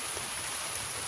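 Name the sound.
rain falling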